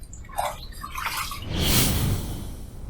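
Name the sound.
rinsing razor and face with water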